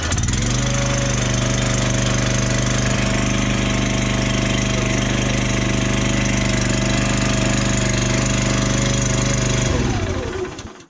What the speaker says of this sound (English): so just one pull to get that one going